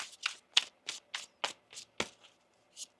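Tarot cards being shuffled by hand, about nine crisp riffling bursts in a quick, slightly uneven rhythm, close and clear, with no talk.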